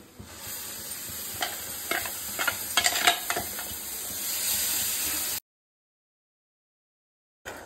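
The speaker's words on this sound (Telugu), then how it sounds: "టమాటా మిక్సీ పట్టుకున్నాను, దీంట్లో వేసేసుకోవాలి." Blended tomato with turmeric, chilli, garam masala and coriander sizzles and hisses in a pan for cauliflower masala curry, with a few stirring scrapes, then cuts to silence before a brief return.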